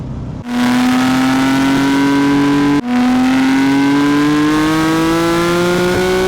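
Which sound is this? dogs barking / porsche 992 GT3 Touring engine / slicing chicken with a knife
porsche 992 GT3 Touring engine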